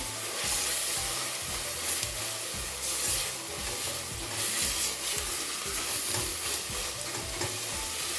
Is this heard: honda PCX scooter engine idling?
no